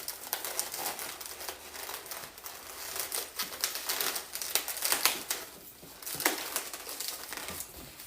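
Latex balloons are twisted and wrapped around a balloon lily petal, making continuous close squeaky rubbing and crinkling with sharp irregular bursts. There is no talk.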